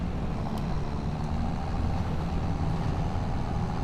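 A big tractor engine in Farming Simulator 25 gives off a loud, steady, low mechanical drone that runs unbroken throughout, with no voices over it.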